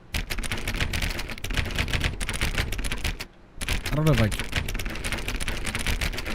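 Rapid, dense clicking on a button in The Stanley Parable goes on steadily, drops out for a brief gap, then resumes, while someone briefly speaks over it.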